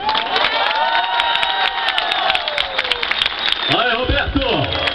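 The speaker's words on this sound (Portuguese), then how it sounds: "queria pedir uma salva de palmas para meu avô." Crowd at a neighbourhood campaign meeting in Bairro Bela Vista applauds and cheers for a grandfather, a dense steady roar of clapping and shouting throughout, with voices calling out near the end.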